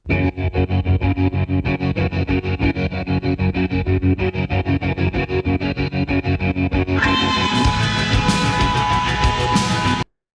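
Fast, steady strummed electric guitar with a distorted, effected amp tone, running continuously before the sound shifts to a brighter, busier texture near the end.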